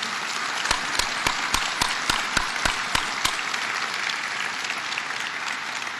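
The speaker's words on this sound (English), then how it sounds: "Let's give them all a round of applause." A large audience at a Citizen Preparedness Corps training event with the National Guard bursts into steady, dense applause, with sharp individual claps standing out early over a broad, continuous roar of hands that holds for the whole stretch.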